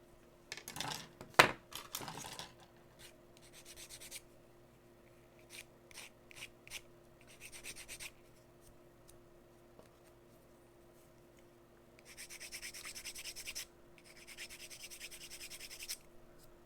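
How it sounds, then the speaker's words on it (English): Light sanding on a plastic Millennium Falcon model part, heard as quiet rubbing scratches in short bursts, with two longer stretches of steady strokes near the end and a sharp click early on, all close and faint. "I'm just very lightly sanding. I don't want to gouge the surface."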